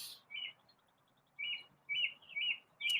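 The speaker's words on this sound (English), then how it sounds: "I don't know if that's like normal for mockingbirds to be that singy" A mockingbird sings in bright, repeated chirping phrases that come in short bursts with gaps between them, close and clear, while a person speaks quietly in the background.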